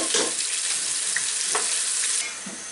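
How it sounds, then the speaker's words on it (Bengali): Chopped onions frying in hot oil for letka khichuri give a steady, loud, close sizzle with a few faint stirring touches, and the sizzle drops off slightly near the end. "1 কাপের মতো পেঁয়াজ কুচি দিব, দিয়ে পেঁয়াজটাকে একটু সাইডগুলো হালকা বাদামি হওয়া পর্যন্ত একটু ভেজে নিব"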